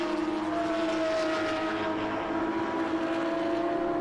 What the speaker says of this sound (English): Ah, it sounds so good, that car.